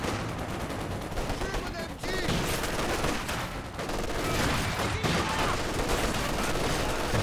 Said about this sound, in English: MG-34 gun crew ready for action.